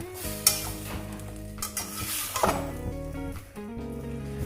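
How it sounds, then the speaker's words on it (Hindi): Chickpea chaat mixture is stirred with ground spices and coarsely crushed red chilli, giving close clinks and scrapes of a spoon against a bowl over a steady tonal background hum. "इन सारे मसालों को अच्छी तरह से इसमें मिक्स करना है।"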